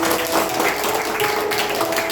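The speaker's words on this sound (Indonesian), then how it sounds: "Boleh kasih tepuk tangan buat Tuhan Yesus" A church congregation claps together during a Sunday worship service, a dense, continuous wash of hands clapping with a faint steady musical tone underneath.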